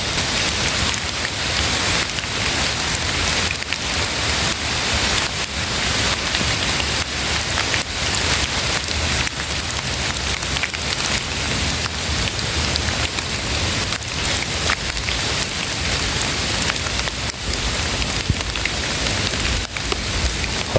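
Steady, dense rain falls throughout during an outdoor hunting trip, a constant close hiss of drops hitting surfaces with no pauses and no voices.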